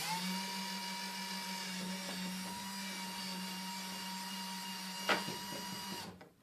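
A power drill's steady high whine runs nearly continuously while driving into a trash can's thick flange, with a brief click near the end before it cuts off.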